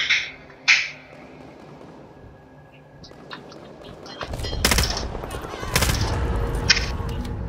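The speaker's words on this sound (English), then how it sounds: "I hear gunshots." Bursts of gunfire erupt partway through, loud and rapid like automatic weapons in a vampire battle royale video game, following quieter electronic sounds and sparse effects.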